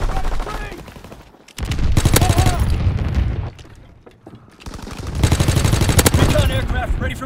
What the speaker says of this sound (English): Anti-aircraft salvo commenced.